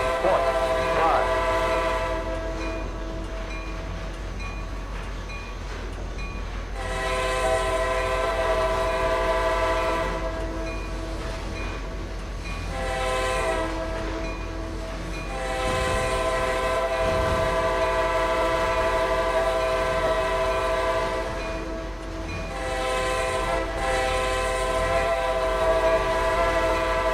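Diesel locomotives in the Trainz simulator rumble on steadily with clattering wheels and long, loud horn blasts sounding several times at intervals, with a voice briefly under the noise.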